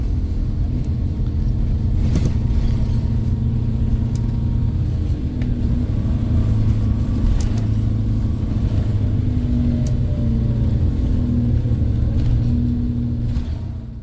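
Riding aboard a Volvo B7RLE Wright Eclipse single-deck bus, a steady low engine rumble and road noise carry throughout, close and fairly loud, with occasional faint rattles and no talking.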